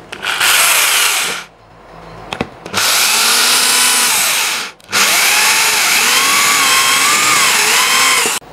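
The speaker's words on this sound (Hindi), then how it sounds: "होल मारते हैं ड्रिल मशीन से।" A power drill bores holes in bamboo, its loud, high whine running in three bursts separated by short pauses and a few clicks, close up with no talk.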